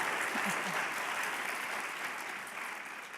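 An audience claps at a political conference, a dense steady wash of applause that eases slightly toward the end, heard alone without talk.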